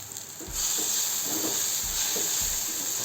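Mangoes cooking in oil over a low flame give a steady close sizzle and hiss, with faint soft stirring pulses recurring about every half second.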